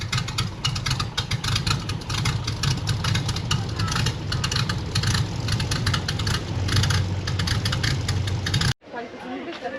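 Airboat engine running loud and steady on an Everglades airboat ride, a heavy low roar with constant droning hum that cuts off abruptly near the end, with people talking nearby.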